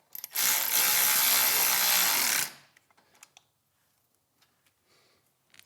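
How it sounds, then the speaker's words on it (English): A power driver with a Torx 45 bit runs for about two seconds, tightening the lower handlebar bolts on a Harley motorcycle, a loud buzzing whir followed by a few faint clicks and taps. "now we can go back to our lower bolts and tighten them up all the way"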